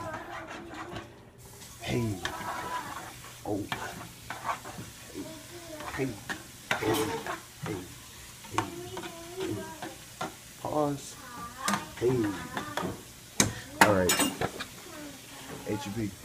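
Butter sizzling in a pan as it is stirred, a low hiss with scattered utensil clinks and scrapes while people talk over it throughout.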